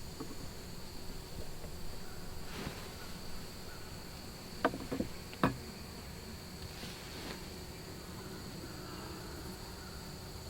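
Honey bees buzz on deep frames in a horizontal hive during an inspection, a continuous close humming drone with a few short clicks and knocks from handling the frames partway through.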